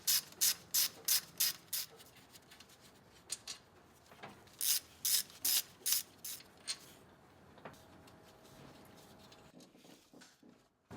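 Quick clicking ratchet strokes loosen valve cover bolts on a 1980-1996 Ford Bronco or F150 engine, coming in rapid bursts of sharp pawl ticks with pauses between, close and moderately quiet.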